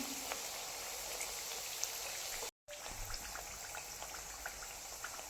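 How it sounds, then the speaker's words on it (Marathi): Kapnya fritters fry in a pan of oil over a medium flame as they brown. The sizzle is a steady, dense hiss, close and unbroken except for a brief dropout partway through, with no voices. "अजून इथे मी अर्धा मिनिटभर अशाच तळून घेणार आहे सगळ्या"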